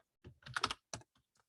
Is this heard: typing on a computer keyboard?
yes